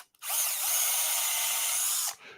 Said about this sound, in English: I know I need to drill down that depth